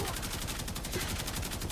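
Rapid automatic gunfire from the Kuva Karak in the video game Warframe, a continuous stream of evenly spaced shots at close range.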